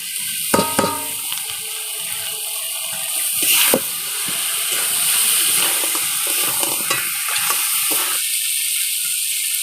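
Fried sea crabs tipped into a hot pan of spiced masala, setting off a steady bright sizzle with a few sharp clatters of stirring near the start, continuing alone without talk.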